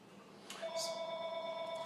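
A telephone ring starts partway through, a steady electronic warble with sustained tones that carries on to the end over a quiet room.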